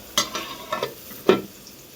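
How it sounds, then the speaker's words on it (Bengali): Potatoes fry in a pan in a village home kitchen. A low sizzle runs under several sharp scrapes and stirring clatters spaced about half a second apart, with no talking. "আর এখানে আলু ভাজা হচ্ছে"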